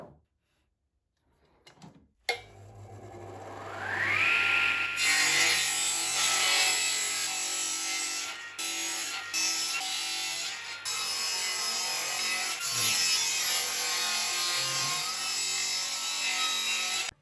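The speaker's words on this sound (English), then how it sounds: "I'll start by ripping the board into 1 by 1 inch lumber for the frame." Close and loud, a table saw rips a wooden board into 1 by 1 inch strips for a quail cage frame, the blade spinning up and then cutting in a long sustained whine with brief dips as the wood feeds through.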